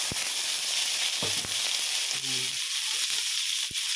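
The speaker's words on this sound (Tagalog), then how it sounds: "Dito sa ating pinagprituhan ng talong, ilagay na natin yung pork" Pork sizzling in leftover oil from fried eggplant, a steady loud frying hiss throughout with a few clicks and scrapes of stirring, close up and without voices.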